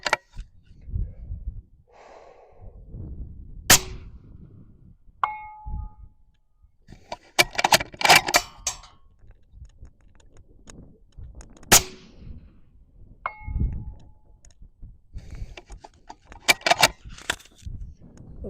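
Suppressed rifle shots fired through a Thunderbeast Magnus RR braked suppressor, several sharp cracks spaced seconds apart with quiet breathing and handling noise between them, close and loud.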